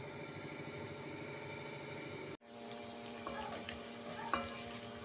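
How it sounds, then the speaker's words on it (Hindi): Chopped onion frying in a pan of oil for matar pulao, a steady faint sizzle that breaks off briefly partway through, then resumes with light stirring clinks. "रोस्ट करेंगे, इसके बाद हमारा इसमें अनियन जाएगा जो हमने काट के रखा हुआ था।"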